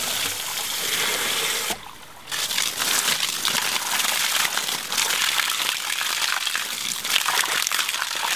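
Water gushes steadily from the top of a ram pump's stand pipe, a loud continuous splashing rush that briefly dips for a moment, then resumes at full strength.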